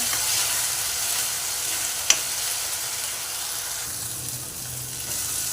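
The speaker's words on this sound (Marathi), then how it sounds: "हे पण आपण दोन तीन मिनटं चांगलं परतून घेऊया" Ground tomato paste sautéing in a pan for dhaba-style egg curry, a steady close hiss of frying that runs throughout with one brief utensil tap partway through, no voices.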